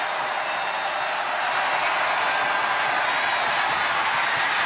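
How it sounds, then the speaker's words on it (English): A large football stadium crowd cheering after a touchdown, a loud continuous roar filling the whole stretch without a break. "Crowd on its feet at the link."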